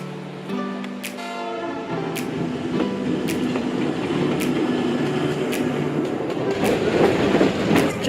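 A train pulls into Machu Picchu town in the Peruvian jungle before dawn, with a steady, close rumble and wheel clatter throughout. A sustained tonal horn-like sound is heard near the start, and no one speaks.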